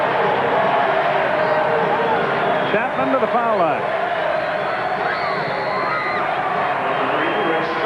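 Home crowd of Charlotte Hornets fans fills a basketball arena with a steady, loud roar and babble throughout, with an announcer talking over it and squeaking sneakers briefly audible midway.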